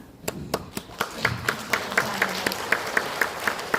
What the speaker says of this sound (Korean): 박수를 주시니까 제가 숨 돌릴 틈이 생기네요